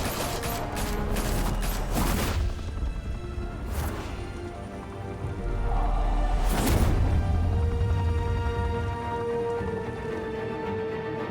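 Gunfire and loud bursts from the video game Batman: The Telltale Series, with several sharp broadband shots and volleys amid a dense, rumbling action soundscape.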